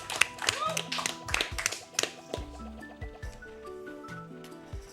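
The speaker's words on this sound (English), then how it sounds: "More clapping." Clapping during a Rayman 3: Hoodlum Havoc speedrun at a live marathon event: a few bursts of quick hand claps mixed with game music and tones, with a voice talking over parts of it.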